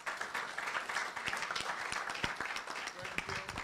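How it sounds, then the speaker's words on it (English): An audience at an economic symposium applauds, steady dense clapping that continues throughout at moderate volume, with voices faintly mixed in. "Another round of applause for Prof."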